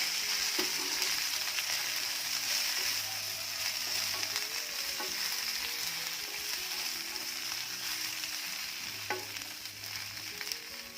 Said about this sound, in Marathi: तेल चांगलं गरम झालं की यामध्ये जी भेंडी आहे ती घालायची